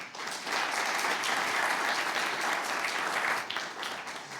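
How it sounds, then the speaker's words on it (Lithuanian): A studio audience breaks into sustained, even applause for a contestant on a comedy game show, the clapping holding steady for several seconds before tapering slightly at the end. "linkiu sėkmės Timūrai tau ir plojimai Timūrui"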